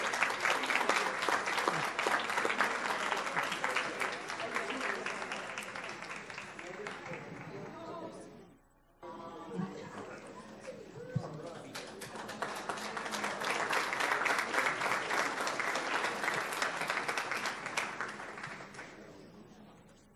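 An audience at a school board meeting applauds a district middle school counselor in a long, steady burst that briefly fades near the middle, then swells again with dense clapping and some crowd voices.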